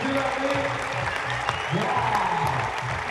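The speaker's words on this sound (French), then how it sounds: "Dès qu'on lâche le mur, on entend un peu la foule crier" Crowd applauding and cheering at the Chamonix climbing World Cup, a continuous roar of clapping with voices rising and falling, fairly loud and close.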